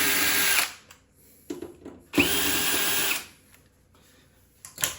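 A power drill backs two screws out of the top panel of a GE Opal 2.0 nugget ice maker, two loud, close bursts of whirring about a second each, separated by a short quiet pause, with another brief start at the end.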